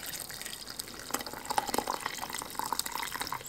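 Boiling water poured over salt and pepper in a container gives an uneven, close trickle and splash with a few sharper drips, fairly quiet and without talk.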